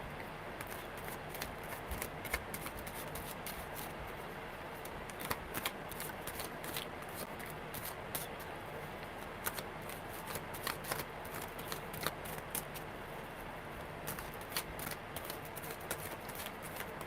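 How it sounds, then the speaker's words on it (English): Tarot cards are shuffled repeatedly in a close, quiet stream of quick riffling flutters and soft slaps, with no voices over them. "That was a really good shuffle."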